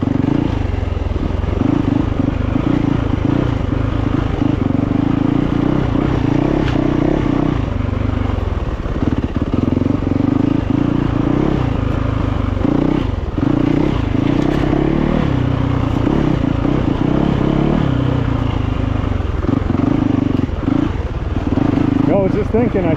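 A Yamaha YZ450FX dirt bike fitted with a G2 Ergo throttle tamer rumbles continuously and loudly through rough off-road riding, its engine note rising and falling with rattling and scraping along the way, while the rider talks over it.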